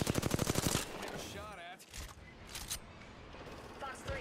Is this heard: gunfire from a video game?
yes